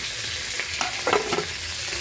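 Potato and cauliflower pieces fry in hot oil with a steady, close sizzle and a few stirring scrapes, with no voices.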